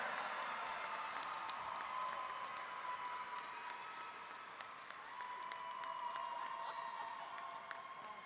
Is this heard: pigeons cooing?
no